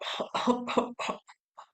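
A voice imitates a rapid fit of paroxysmal whooping cough: several harsh coughs in quick succession, then a couple of short, fading gasps.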